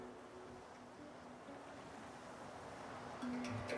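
Ocean waves lap steadily in a calm seaside scene from the video game Divinity Original Sin 2, a soft continuous wash of surf with light wind that swells a little louder near the end, no voices.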